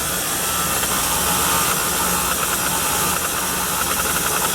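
An electric mixer churns chocolate chip cookie dough on a low setting, giving a steady, loud motor whir with a hissy, grinding texture that runs unbroken throughout, with no voices.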